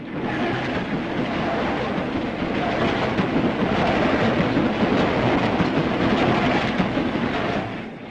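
A train rolls past close by, a loud sustained rumble with rattling wheels that holds steady before easing off at the end.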